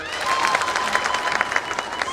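A crowd at a President Ruto rally in Eldoret breaks into applause, a dense patter of many hands clapping at moderate volume, fairly close, steady for a couple of seconds.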